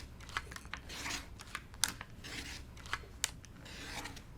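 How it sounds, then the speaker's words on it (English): A rotary cutter trims a quilt block's fabric edges along a ruler, giving soft, close rasping and crunching strokes in a quick, irregular series with brief pauses. "So from here, I like to trim my block."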